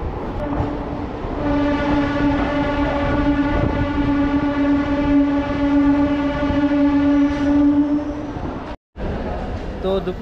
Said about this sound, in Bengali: তো চলুন এখন ট্রেন ঢুকছে নিউ কুচবিহার জংশনে।